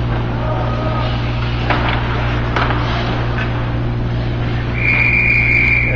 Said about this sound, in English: Yeah, whistle.